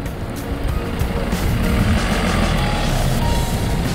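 A SsangYong Rexton D22 4x4 SUV with automatic transmission drives at low speed in rough conditions, a steady loud engine and road rumble with no talk.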